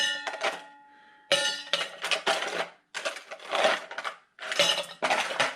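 Ice cubes dropped into a metal cocktail shaker, a series of bright clinks and rattling chinks in uneven bursts, close and fairly loud, with short pauses between pours.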